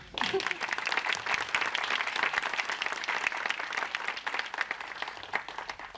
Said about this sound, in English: I think that's worth a big applause